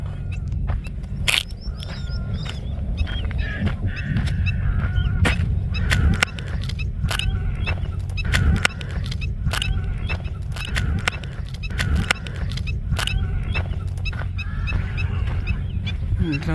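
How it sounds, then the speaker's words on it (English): Greater flamingos call in a flock in Greece with many goose-like honks, some near and some farther away, over a steady murmuring background. "So here we're coming across some nice flamingos."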